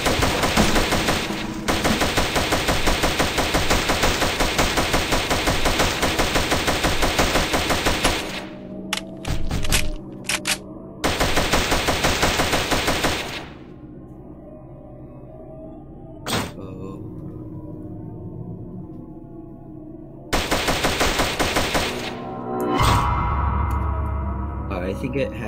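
Gunfire from a mystery box gun in a Zombies video game pours out in long, dense, loud automatic bursts that stop and restart, with a lull of scattered thuds and quieter game sounds between them.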